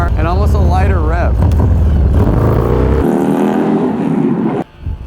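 A car in first gear revs hard into a burnout, the engine note climbing and wavering loudly up close before cutting off abruptly near the end, with speech over the first part.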